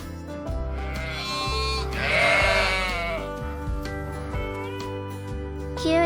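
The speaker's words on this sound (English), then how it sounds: "Sheep." Sheep bleat in a few drawn-out, wavering calls that rise loud in the middle, over a steady musical backing and a farm-animal theme.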